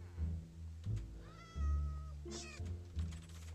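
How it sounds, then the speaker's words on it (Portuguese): Black cats meow repeatedly in Minecraft, several close, drawn-out cries including one long wavering meow, over quiet low thumps with no talking. "Olha, dois gatos pretos"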